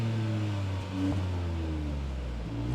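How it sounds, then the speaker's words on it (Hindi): Hyundai Venue N Line with turbo engine and dual exhaust revving while parked, a loud, steady low exhaust drone with a brief blip of rising revs in the middle and another swell near the end. "अब मैं जरा इसको रेव करता हूँ और आप एग्जॉस्ट नोट सुनिएगा"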